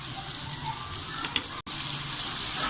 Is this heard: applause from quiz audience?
no